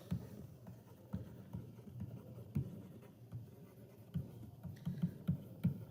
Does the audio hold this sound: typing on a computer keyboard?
yes